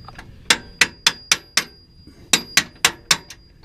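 A hammer strikes metal in a steady run of about ten sharp, ringing blows, with a short pause partway, while knocking out an upper or lower control arm on a third-generation Toyota Tacoma during a suspension install.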